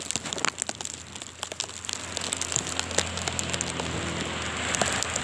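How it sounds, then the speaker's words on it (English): Sleet and freezing rain in a winter storm blizzard in the Bronx, New York, hiss steadily and pelt close surfaces with dense ticking that builds slightly louder over a few seconds. "Now it's becoming moderate, light, moderate, sleet, freezing rain."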